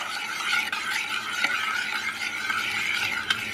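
A spoon stirs egg into liquid in a bowl for tart cherry muffin batter, a soft continuous scraping swish with a few light clinks against the bowl.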